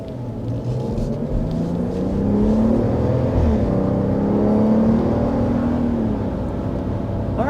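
A 2025 RAM 1500 Tungsten pickup with a turbocharged inline-six accelerates from inside the cab, its engine note rising and swelling steadily as the truck pulls, loud and continuous with no voices.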